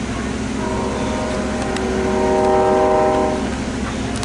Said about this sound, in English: Sitting out here on the porch and you hear a train going by